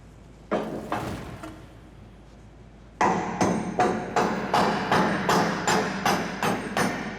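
Metal hammer blows along a steel sheet seam to make it watertight: a couple of strikes, a pause, then a steady run of about nine ringing hits, close and loud.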